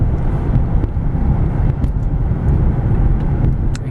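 A 2004 Mercedes-Benz E320 Sport with an automatic transmission cruises along a road, giving a loud, steady rumble of engine and tire noise with wind buffeting throughout.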